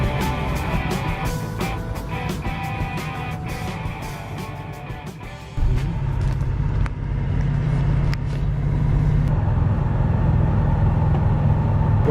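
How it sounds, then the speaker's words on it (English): A 1969 Camaro SS Super Sport muscle car drives along, heard from inside as a steady engine rumble with road noise, deepening and growing louder midway as the car pulls harder, with some clicks and rattles. "we're in a 1969 Camaro SS Super Sport. One of the most popular muscle cars of its era."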